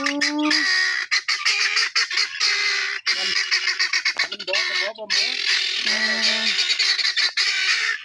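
Guinea fowl calling in a Thai orchard, loud harsh repeated honking squawks close by, overlapping in busy bursts with brief gaps.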